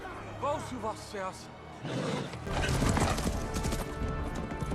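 Horse hooves gallop in a fast, steady clatter, with voices talking over the start and a roaring rumble building underneath.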